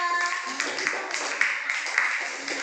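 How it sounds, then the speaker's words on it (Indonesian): Classroom applause for a student group, a dense wash of many hands clapping together, steady and fairly loud throughout with a few sharper individual claps standing out. "Beri tepuk tangan untuk kelompok 2."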